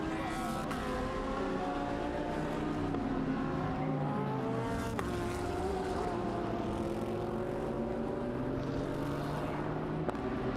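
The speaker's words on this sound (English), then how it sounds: "an opportunity to hear that fantastic sounding Nissan" A Nissan GT race car engine howls steadily through qualifying at Okayama, its loud, sustained note rising and falling in pitch as the car passes through gears, with no speech over it.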